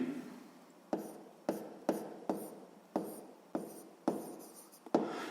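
A pen or pencil writes numbers for a math exercise, giving about eight quick, distinct scratching strokes in an irregular rhythm, close and fairly quiet, with no talking.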